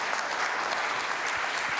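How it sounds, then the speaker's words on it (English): A conference audience claps briefly, a dense even patter of applause lasting under two seconds, heard alone. "can I have one applause for everybody who agrees with this last statement?"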